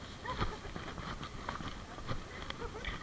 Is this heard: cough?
no